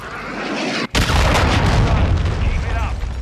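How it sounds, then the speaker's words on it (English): A cruise missile strike detonates in Call of Duty Modern Warfare 2 hardpoint ranked play: a brief dropout, then a sudden loud boom that rolls into sustained rumbling debris and game noise for several seconds. "Friendly cruise missile approaching the target."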